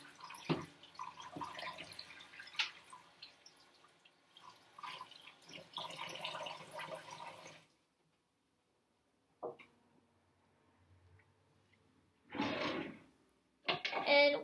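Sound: rinsing pumpkin seeds with water in a sink

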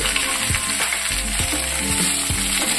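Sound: frying vegetables in a pan for cucumber chutney

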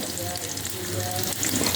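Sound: onion lightly frying with spice paste

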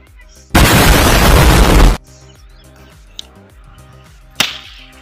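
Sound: waterproof firecracker exploding in water

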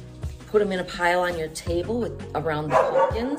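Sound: dog barking

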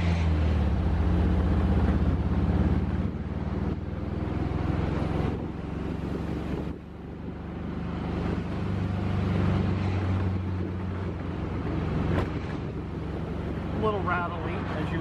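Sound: 1930 VW-based Bentley replica kit car driving

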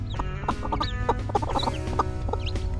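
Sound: chicks peeping

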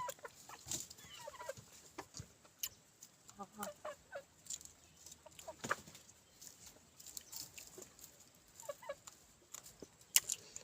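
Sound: chickens clucking

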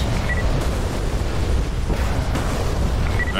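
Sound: explosion from strike on mortars, DCS flight simulator video game

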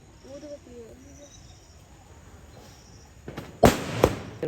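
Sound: firecrackers bursting during Thai Pongal celebration

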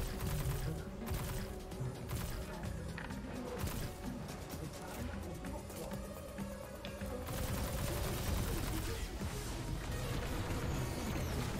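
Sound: machine gun firing in the video game Destiny 2

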